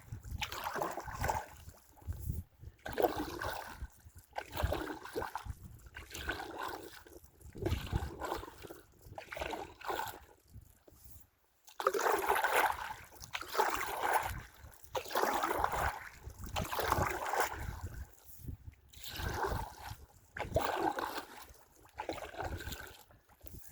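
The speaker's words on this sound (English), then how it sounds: "we got drinkable water that's coming right down the river" River water running steadily in Canada, a continuous close rushing wash with gentle surges, no talk over it.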